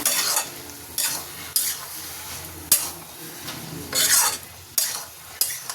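Masala for a banana flower and prawn curry being stirred in a pan: repeated scraping strokes of a spatula against the metal over a low, steady sizzle, close up with no talking.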